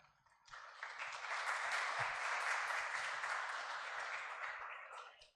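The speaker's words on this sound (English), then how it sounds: "let's give a big round of applause for our panelists." Audience applause for conference panelists, a dense wash of clapping that swells quickly, holds steady for several seconds at moderate distance, then tapers off, with no talking over it.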